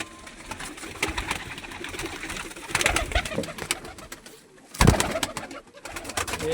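Low, rolling coos from a flock of fancy pigeons in a night-time loft in Kashipur, nearby and moderately loud, punctuated by wing flaps and brief scuffles.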